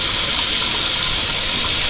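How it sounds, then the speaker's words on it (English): Hot water running hard from a kitchen tap into a sink, used for cleaning cast iron, a loud, steady hiss-like rush with no breaks from start to end. "just go ahead and turn your water on. Get it nice and hot."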